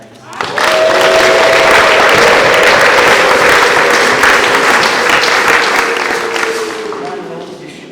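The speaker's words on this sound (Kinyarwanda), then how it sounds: "Mukomere amashyi mu izina rya Yesu" A church congregation bursts into loud, sustained applause that swells quickly and fades slowly, with a voice calling out briefly over it.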